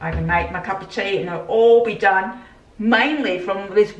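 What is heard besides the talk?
No distinct noise like a dog, phone or traffic.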